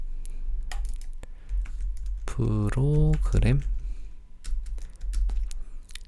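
Keys clatter on a computer keyboard as text is entered in Photoshop, scattered clicks before and after a brief stretch of speech in the middle.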